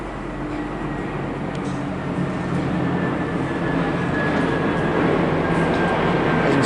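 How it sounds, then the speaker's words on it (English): A Transport for Wales Class 175 diesel train pulling into Stockport station, a steady rumbling roar that slowly builds in loudness, with a faint tonal whine over it and no voices. "arriving now is the 12:39 Transport for Wales service to Milford Haven from Manchester Piccadilly"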